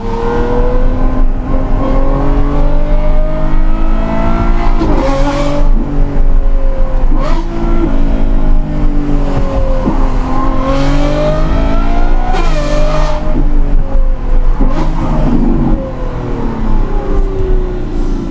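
A Lamborghini Revuelto with a new exhaust revs loudly and continuously, the exhaust note rising and falling through gear changes, with a deep rumble throughout.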